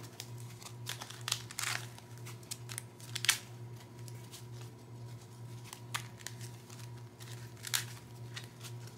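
New plastic-sleeved playing cards crinkle and riffle stiffly in short bursts of rustling and snapping, close up, over a low steady hum.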